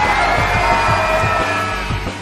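A live studio audience roars, shouting and cheering loudly for the Mass Communication side at a televised school debate show, and the sound stays dense and continuous throughout.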